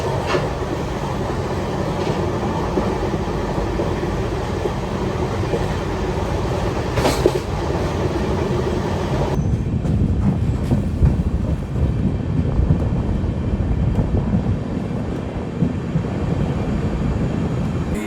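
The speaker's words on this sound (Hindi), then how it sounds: "अब देख सकते हो पावर हाउस रेलवे स्टेशन में अपनी ट्रेन जो है पहुंच चुकी है" A Durg Ambikapur Express running on brand new LHB coaches rumbles steadily on the rails in India near Power House station, a loud continuous roar with faint rhythmic clatter and no voices.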